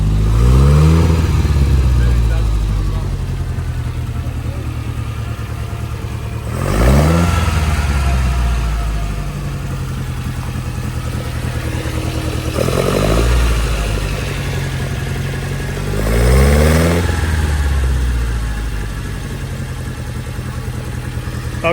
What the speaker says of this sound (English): Definitely sputtering under acceleration.